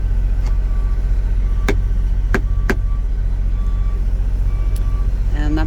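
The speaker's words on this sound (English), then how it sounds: "you can hear the other truckers. Truckers are coming in." Trucks pulling into a truck stop, heard as a steady low engine rumble throughout, with several sharp beeps from a reversing truck and a short rattling burst near the end.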